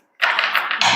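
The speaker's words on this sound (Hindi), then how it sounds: "Let's shuffle up your cards." Tarot cards being shuffled, a quick crisp flurry of papery riffling taps lasting under a second, close and fairly loud after a brief silence.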